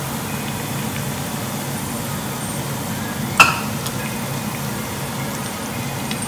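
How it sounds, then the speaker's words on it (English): Khmer bread sticks deep-fry in oil with a loud, steady, dense bubbling hiss that runs the whole time, with one brief tap near the middle. "You want to deep fry it until it is golden brown."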